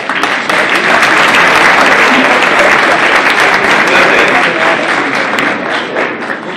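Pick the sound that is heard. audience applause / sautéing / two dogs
audience applause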